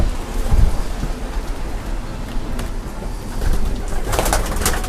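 Racing pigeons coo softly inside a loft, low repeated calls over a dull background hum, with a brighter rustle of wings or movement near the end.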